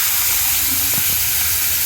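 Bitter gourd fries in hot oil with onion and green chilies, a loud, steady broadband hiss and sizzle running unbroken from start to finish, close up with no talking.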